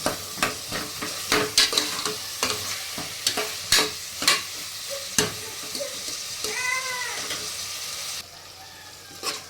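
Mutton kheema with turmeric is stirred in a pan, a run of quick rhythmic spatula scrapes and knocks over a frying sizzle, close and fairly loud, with a brief high whining sound near the end.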